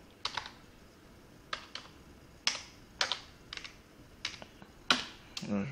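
Computer keyboard typing in short bursts of quick, close key clicks separated by brief pauses, fairly quiet, with no talking.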